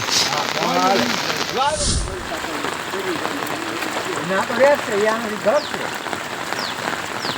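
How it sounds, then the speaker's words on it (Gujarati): Heavy monsoon rain pours steadily near a dam with its gates opened, water rushing and flowing through a block, a continuous broadband wash throughout, with people talking and laughing over it. "કેટલું બધું પાણી જો ભાઈ વરસાદ આવે છે"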